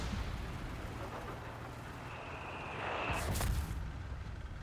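Mortar fire in the real-time strategy game Company of Heroes 3: a rising whistle leads into a single booming burst, set against a steady wash of distant battlefield rumble and gunfire.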